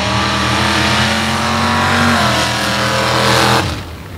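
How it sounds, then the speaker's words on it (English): Nitrous-fed 427 cubic inch, 700 horsepower drag race car at a drag strip, its engine roaring loud and close with a sustained high-revving launch that cuts off sharply near the end. "Up next, Jason Soucy, 427 cubic inch, 700 horsepower engine on 300 shot of nitrous, ready to go here in the side chain."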